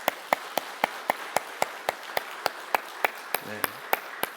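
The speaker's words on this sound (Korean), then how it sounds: "우리 성도님들 박수 한번 치십시다" A church congregation claps together in a steady, even rhythm, about fifteen crisp claps spaced evenly apart, with a brief low tone sounding near the end.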